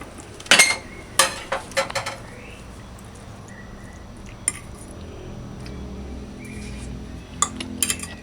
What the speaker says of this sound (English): You just get a knife and you just cut it